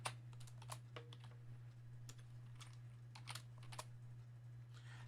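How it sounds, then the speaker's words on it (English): Keys clatter on a computer keyboard as an equation is typed in, quick bursts of close crisp clicks with short pauses, over a steady low electrical hum. "I would type in the original equation exactly as I saw it"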